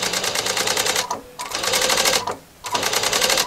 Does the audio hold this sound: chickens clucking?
no